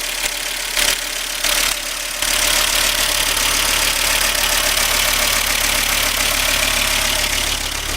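A Volvo car engine idles steadily after a thermostat gasket repair with a new cam belt fitted, a close, loud, continuous rumble with a constant low hum after a brief uneven start.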